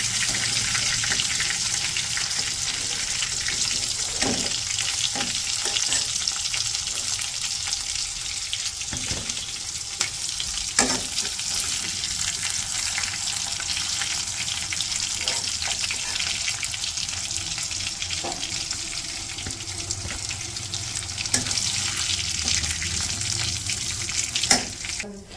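Bay leaves and cardamom frying in hot oil in a home kitchen, a steady broadband sizzle running throughout with occasional soft clicks and stirring knocks, no voices.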